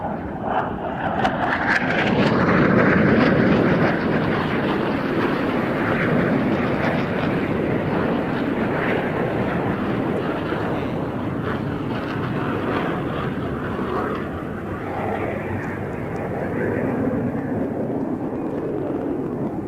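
A Czech L-159A Alca jet flies a slow pass at about 130 knots at an airshow, a loud sustained engine roar that swells and then holds steady as a broad, rushing drone.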